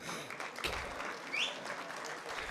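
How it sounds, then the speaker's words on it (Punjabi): An audience at an International Punjabi Conference claps in a brief, moderate burst of applause that fades slightly, with no talk over it. "ਬੁੱਲੇ ਦਾ ਰੰਗ ਉਹਦੇ ਉੱਤੇ ਤਾੜੀਆਂ ਮਾਰ ਕੇ ਦੱਸੋ"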